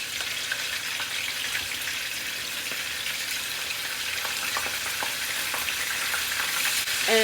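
Oxtails brown in a very hot pan with a dense, loud, unbroken sizzle and a few soft scrapes, followed by a short clatter at the very end.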